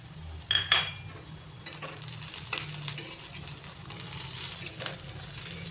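Black cumin, garlic and green chillies frying in a pan, with a clatter of spices dropping in, then a steady soft sizzle and occasional utensil scrapes close by.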